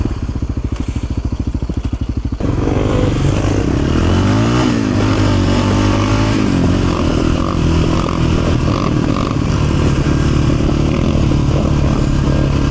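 A motorcycle engine pops and backfires while riding, loud and close, with rapid crackling pulses at first, then revving that rises and falls in pitch over continuous rough engine noise.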